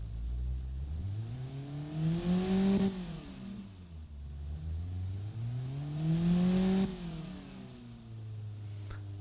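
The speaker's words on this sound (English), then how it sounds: "Let's hear the amazing, uninspiring four-cylinder." A four-cylinder car engine in the game Automation revs up twice, rising to a strained whine then dropping back to idle, with a synthetic, game-like tone and no talking.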